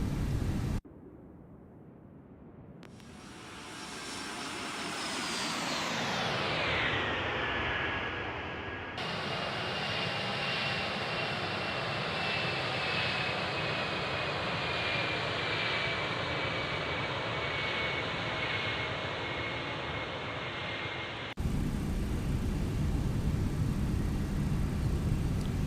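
An MD-11F freighter passes in a flight simulator, its jet engines roaring loud and steady. A falling whine sweeps down as it goes by, then a sustained rumbling drone follows with abrupt cuts between views.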